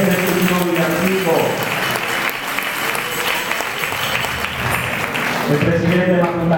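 Warm, sustained audience applause follows a Christmas carol at a holiday gathering, steady clapping, with a voice speaking at the start and again near the end.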